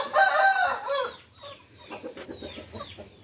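Chickens at a backyard poultry breeding pen, a loud crowing rooster call followed by a series of softer close clucks.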